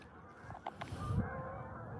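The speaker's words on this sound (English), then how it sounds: "There's the Canadian geese honking over the hill there." Canada geese honk from a distance over a hill near a trout stream in southeastern Minnesota, a few faint calls under a soft outdoor background with no one speaking.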